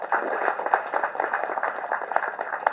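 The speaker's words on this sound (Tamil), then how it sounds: "தயவு செஞ்சு ஒரு கைத்தட்டல் கொடுங்க" Audience applause at a stage event announcing a celebrity engagement, a steady crowd of many hands clapping throughout without a break.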